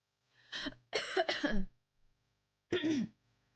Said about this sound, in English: no matter how much I cough and clear it